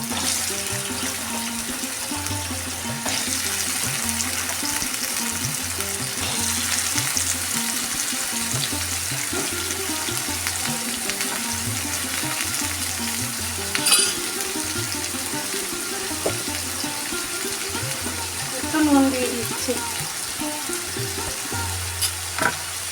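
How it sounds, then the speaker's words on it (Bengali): Potatoes dropped into hot oil for a mutton keema recipe fry with a constant loud sizzle and hiss, joined by occasional scraping of a utensil and a few brief louder bursts, with no one talking. "তেল গরম হয়ে গেছে এখন আমি আলুগুলো ছেড়ে দিচ্ছি"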